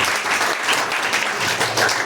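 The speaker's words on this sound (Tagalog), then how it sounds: "Malakas po na palakpak para po sa ating Panginoon" A congregation claps loudly in church for the Lord, a brisk, dense burst of applause filling the whole moment without a pause.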